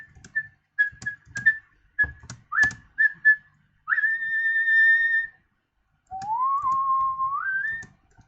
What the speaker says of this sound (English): That was an incredibly bad attempt at whistling along